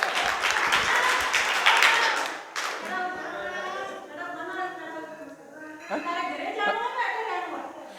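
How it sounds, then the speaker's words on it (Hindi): A group of orphaned children, who are deaf and mute or intellectually disabled, clap together in a brisk burst of applause lasting a couple of seconds. Then the clapping gives way to people talking. "चलो ताली बजाओ एक बार।"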